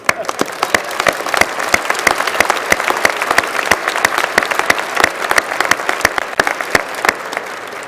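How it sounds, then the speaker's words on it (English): Sustained audience applause at a winter business school commencement ceremony, dense overlapping claps with sharp individual hand strikes standing out, steady and fairly loud for the whole stretch with no speech. "Now you may applaud."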